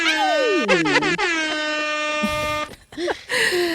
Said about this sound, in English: Let's just give her an air horn.